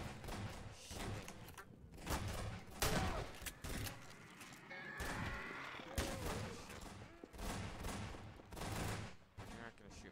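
Several shots ring out in bursts amid a loud, busy scene, thudding and cracking over constant background noise with voices mixed in.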